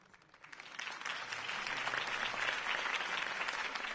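Crowd applause follows a campaign speech in Batman: The Telltale Series, swelling from quiet in the first half second into steady, dense clapping that holds to the end.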